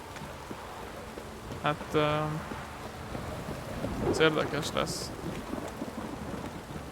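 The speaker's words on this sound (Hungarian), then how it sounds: "Természetesen megint szakad az eső." Steady rain hisses through a stormy scene in the video game The Witcher 3: Wild Hunt, with low thunder rumbling underneath. Someone speaks briefly over the downpour.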